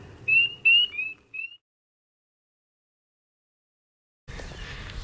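Spring peepers, small frogs, give a few clear high peeping calls in quick succession at close range, followed by a long silence and then a low, steady outdoor background.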